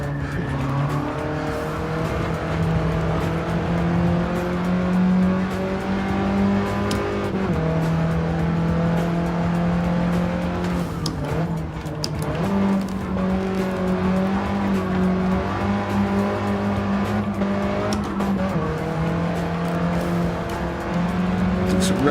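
A Mini race car in Gran Turismo 7 holds a steady, loud engine drone that sits pinned against the rev limiter, with brief dips and small tire squeals through the run and no talk over it.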